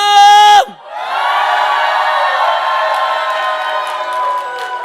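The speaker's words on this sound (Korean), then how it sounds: "주님께 함성!" A church congregation at a Korean praise and worship revival gives a loud, sustained shout and cheer to the Lord, rising right after a held sung note cuts off and carrying steadily for several seconds, full and close.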